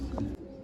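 A pigeon gives a short, close, low coo, in a brief fragment with a soft break partway through.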